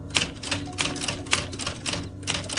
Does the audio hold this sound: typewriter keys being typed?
yes